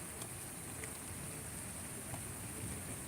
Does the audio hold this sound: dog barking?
no